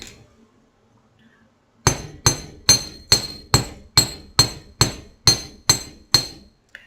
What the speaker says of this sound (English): Give a little hammer